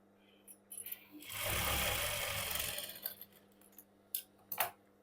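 A sewing machine runs a single continuous burst of stitching on a princess cut blouse, loud and close for about two seconds. Quieter clicks and handling taps of fabric and tools come before and after, with no talk.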